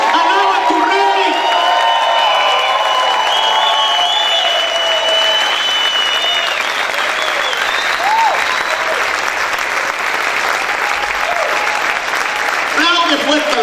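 A church congregation at a worship service loudly cheers, whistles and claps, with shrill whistles and whoops rising over continuous dense applause, close and intense throughout.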